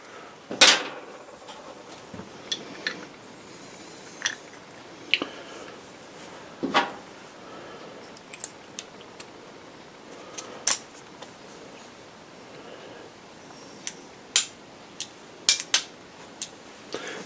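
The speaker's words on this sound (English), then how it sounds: "I use the butt end of my scoop to press the cap down." The butt end of a powder scoop presses a percussion cap onto a mini black-powder revolver, heard as sparse, sharp little clicks and clacks spread over a quiet stretch, close by and without talk.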